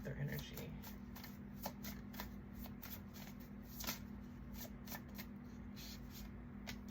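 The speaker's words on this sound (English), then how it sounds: "I want to pull one more card for this Panther energy." Oracle cards riffle and slap together in a steady run of crisp shuffling flicks, close and clear throughout, with a low steady hum beneath.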